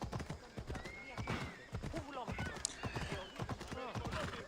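Horse hooves clip-clop in a video game, a steady run of short hoof beats with a whinny, heard under constant talk and game sounds.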